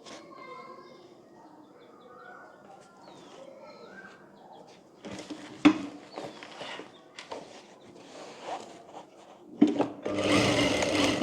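A sewing machine stitching the lining of a blouse: quiet at first, then bursts of mechanical whirring in uneven spurts, growing louder toward the end, with a faint voice beneath.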